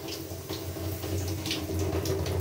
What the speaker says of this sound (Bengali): সমানে দেখো জল পড়ে যাচ্ছে